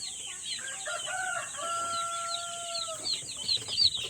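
Chicks on a Philippine poultry farm raising Rhode Island Red, Black Australorp and Light Sussex breeds cheep in high, thin chirps, with a sustained tonal call among steady farm background noise.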